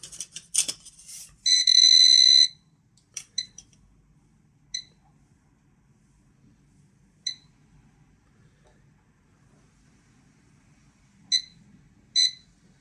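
A Geiger counter held near a radiation source, giving short sharp beeping clicks that arrive in irregular bursts, one longer sustained buzz early on, then sparse isolated pulses and a closing pair over near silence.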